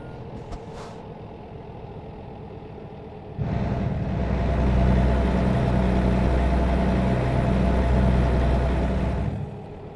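A truck in American Truck Simulator driving at night on the I-5 through California: a quiet engine hum with short beeps early, then the engine swells into a loud, close, steady drone before easing slightly at the end.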